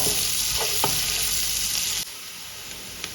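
Onions sizzle and fry in a pan for homemade chicken biryani, a steady, close crackling with a couple of stirring scrapes, quieting near the end.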